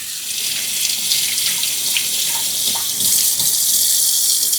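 A tap runs water over an English cucumber at a sink, a steady close hiss of flowing water with light splashing shifts as it is rinsed.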